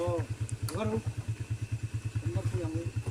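A motorcycle idles nearby with a steady, low, pulsing engine beat, while people talk over it and a higher whining tone sits in the background.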